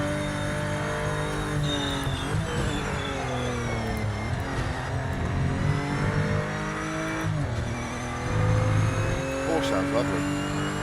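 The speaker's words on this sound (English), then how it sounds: "Porsche sounds lovely." Loud, continuous Porsche race car engine from the Project Motor Racing game, revving and shifting through gears with rising and falling pitch on a timed lap, with brief tire squeal.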